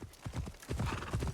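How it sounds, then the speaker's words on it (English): Horse hooves clip-clop in Assassin's Creed Shadows, a quick run of rhythmic thuds at close range, steady and fairly loud, with no talking over them. "Yeah, my horse is doing better parkour than Yasuke has"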